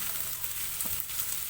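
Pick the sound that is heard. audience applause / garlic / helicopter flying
garlic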